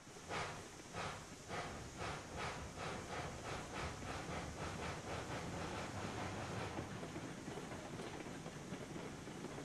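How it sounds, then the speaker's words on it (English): A train in the video game Railroads Online, dragging its cars with the brakes on during a storm, gives a rhythmic run of hissing steam puffs that fade into a continuous hiss, fairly quiet throughout. "It was just like a random puff of steam there."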